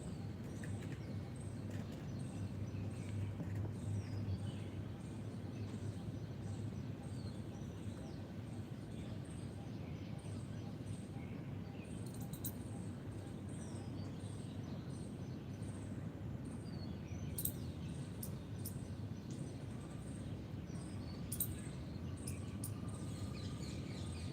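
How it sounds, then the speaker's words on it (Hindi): Birds chirping in the morning, small scattered tweets and calls spread through a steady hiss of background noise, fairly faint and distant with occasional brighter chirps toward the end. "पक्षियों की मधुर चहचहाट सुनिए, तनाव को दूर करने वाली है ये।"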